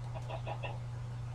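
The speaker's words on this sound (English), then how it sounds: "Hey, look, a chicken." Chicken in a video game clucking four or five times in a quick run over a steady low electronic hum, faint and alone.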